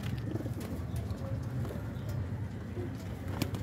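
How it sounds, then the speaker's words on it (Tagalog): Low, murmuring pigeon coos come and go over a constant ambient hum, with occasional faint chirps. "At ito ang kanyang imported na kalapate."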